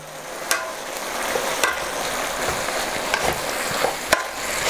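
Chicken stir-fried with ginger and spring onion in a wok over high heat, a dense continuous sizzle with repeated clacks and scrapes of a utensil tossing the food, near and loud.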